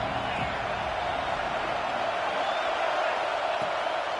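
Steady crowd roar from a stadium in a college football video game, a broad sustained wash of cheering and noise at a big third down, with no clear individual voices standing out.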